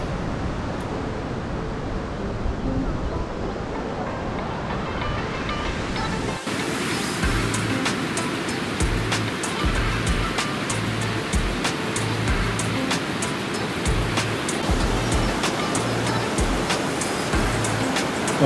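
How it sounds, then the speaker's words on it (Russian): Small ocean waves wash steadily onto a beach in Sri Lanka, a continuous broad surf roar with gentle surges, close by and fairly loud, without speech. "Волны есть, но волны небольшие."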